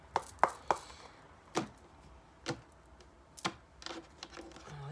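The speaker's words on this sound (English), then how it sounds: "I just want to get a good shuffle on them" A deck of tarot cards being shuffled by hand, heard as a series of crisp, close riffling snaps and taps spaced irregularly over a quiet background.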